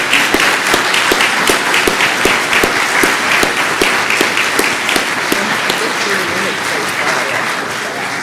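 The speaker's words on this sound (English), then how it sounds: "So please, let's give them one more round of applause." A town hall audience at a county Republican club meeting applauds, many hands clapping steadily with some sharp individual claps standing out, holding strong before easing slightly near the end.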